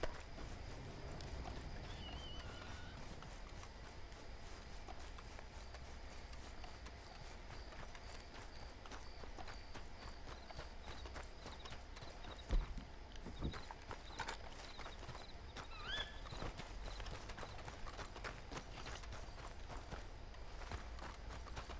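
Horse hooves clip-clop steadily in the Western video game Red Dead Redemption, a faint, even rhythm of hoofbeats over quiet ambient sound.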